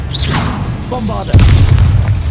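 A Bombarda spell explosion in the video game Hogwarts Legacy, one loud booming blast with a deep rumbling tail close up, following a spoken incantation.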